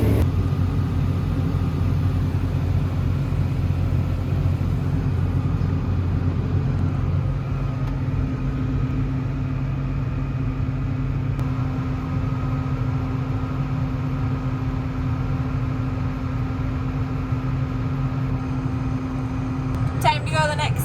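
A CASE IH combine harvester rumbles steadily while driving in four-wheel drive up a hilly cornfield, a constant low engine drone with a faint whine, close and unbroken for the whole stretch, with a brief rattle near the end.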